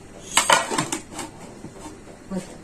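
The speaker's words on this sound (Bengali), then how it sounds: "এই জন্য আগে ঢাকনা দিয়ে ঢেকে দিই" A metal lid set onto a pot of biryani before slow dum cooking, with several sharp clinks and clatters close by, then a fainter clink near the end.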